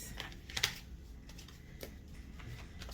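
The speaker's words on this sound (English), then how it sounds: "Let me just shuffle, and then we'll put this to the side" A deck of tarot cards is shuffled by hand, making a few quiet, scattered clicks and soft riffles. The sounds are close and faint, with no talking.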